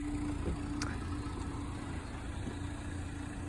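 A 1999 Renault Clio RN hatchback on the move gives a steady, low engine drone heard from inside the cabin, constant and close with no talking.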